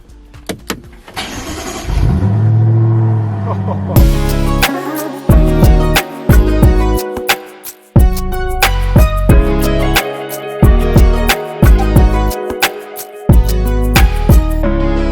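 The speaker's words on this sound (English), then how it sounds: "connect the car and turn on ignition" A BMW M6 F06 engine cranks over and fires up, then settles into a loud, steady run with music-like tonal layers and repeated bursts of revving close to the microphone.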